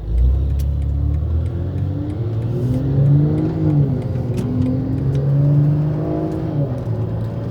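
A catless BMW M340i with a big turbo upgrade accelerates hard under boost, its engine note climbing and dipping through the revs in a loud, steady, close drone with no talking.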